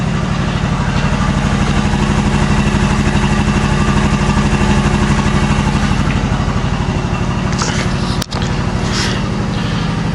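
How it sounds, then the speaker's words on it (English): A used Quincy QR-325 air compressor pumps up with a loud, steady, rhythmic chugging that continues without a break, close by and with no voices over it. "That's the new Quincy QR, or the new old used Quincy QR-325 pumping up right now."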